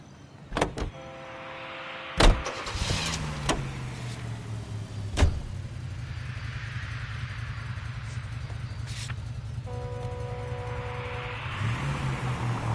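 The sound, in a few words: car driving in the video game L.A. Noire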